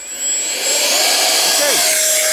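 Twin 50mm twelve-blade electric ducted fan jets on a small Me 262 model run at full throttle, a loud, steady, high-pitched whine with a rising sweep and a sustained tone, close by.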